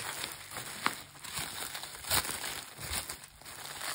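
Crinkly plastic and paper rustle steadily as a parcel holding a tarot deck, shipped from the United States, is opened close by, with a few sharper crackles and no talk.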